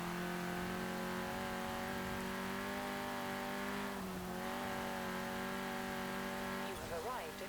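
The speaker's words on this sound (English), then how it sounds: "I'm just going to let you listen to the engine for a bit, because it is easily one of the best parts of this car." A 1991 Peugeot 205 Rallye in Forza Horizon 4 holds a steady, raw engine drone with a strong harmonic hum, rising slightly near the end as revs climb.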